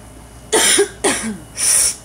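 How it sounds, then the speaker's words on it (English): Three harsh, close coughs in quick succession, the last one breathier and drawn out, with no talking. "I got a cough. I feel it coming on."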